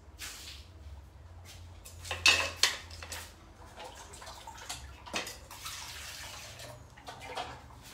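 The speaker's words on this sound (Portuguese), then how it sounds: "Deixa eu só trocar aqui minha água um segundinho, gente. Trocar aqui minha água." Water being changed in a container where paintbrushes were soaking, with splashing, pouring and clinking of a jar or cup at a sink in several bursts, close and moderately loud.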